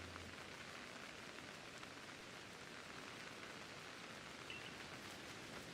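Steady rain falls in the Pokemon Legends: Arceus video game, a constant even hiss of drops on surfaces lasting throughout with no talk over it.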